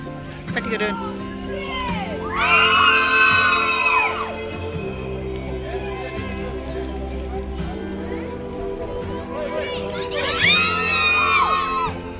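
A group whoops and shouts loudly in two long bursts in Munnar, voices ringing out and echoing back, with quieter chatter between them.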